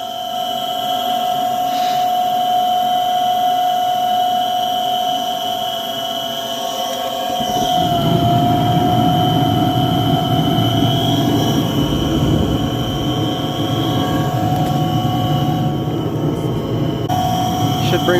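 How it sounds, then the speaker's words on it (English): A household furnace blower starts after the igniter: a steady mechanical hum with a whining tone, then a louder broad rushing roar of air that swells in partway through and holds, close and continuous. "Here comes the igniter. Kind of a loud blower."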